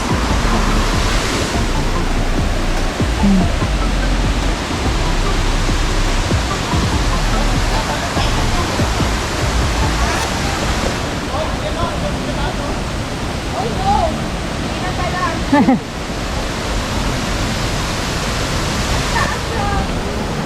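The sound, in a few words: waterfall at Bolinao Falls, Pangasinan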